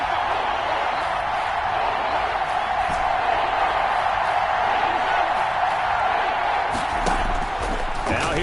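Stadium crowd noise from a football video game, a steady dense roar of cheering and whooping that holds loud throughout with a few sharper bursts near the end, a commentator talking over it.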